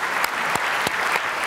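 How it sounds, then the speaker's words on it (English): Brisk applause from a conference audience at a policy conference keynote, a dense continuous clatter of many hands with occasional sharper claps near by. "How about a nice round of applause for the chamber for an excellent event."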